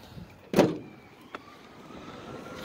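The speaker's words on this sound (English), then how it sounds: "we do have a function to open up that tailgate with our remote" The tailgate of a 2022 Chevrolet Silverado pickup releases by remote with a sharp clunk, then a brief faint mechanical click and low hum, ending on another thud.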